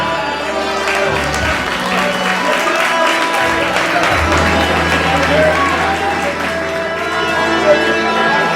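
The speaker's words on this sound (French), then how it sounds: "vous allez recevoir avec les plus brillants des applaudissements Lady Riaba." Applause and crowd noise welcoming a slam performer at the opening of a fashion day event, loud and continuous throughout, mixed with music-like sustained tones and general crowd din.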